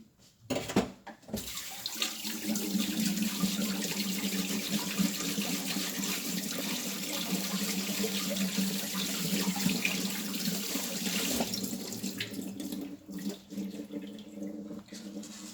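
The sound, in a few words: washing rock tripe mushrooms under running tap water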